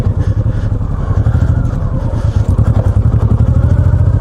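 Heavy Honda VTX motorcycle ridden off-road on a trail, its engine giving a steady, close, low throbbing rumble with a fast pulsing beat and slight rises in revs.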